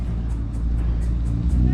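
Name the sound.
Ford Mustang engine revving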